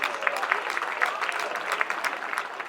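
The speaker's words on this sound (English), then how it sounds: "Can we give our tonight's winners, Mark Cossar and Carl Blythe, a big round of applause, please?" A crowd at a British sidecar speedway championship meeting in Leicester gives a brief round of applause, a steady patter of many hands at a moderate distance with a faint voice beneath.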